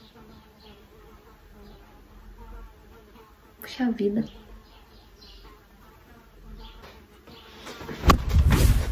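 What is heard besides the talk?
fly buzzing around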